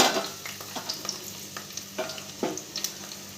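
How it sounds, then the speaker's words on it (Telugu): Capsicum pieces frying in about three tablespoons of hot oil in a pan, a close steady sizzle broken by scattered stirring scrapes and taps, with no voices. "హీట్ అయ్యాక క్యాప్సికమ్ ముక్కలు దీంట్లో వేసుకుందామండి"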